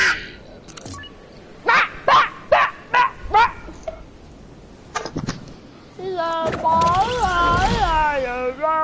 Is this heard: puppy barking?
yes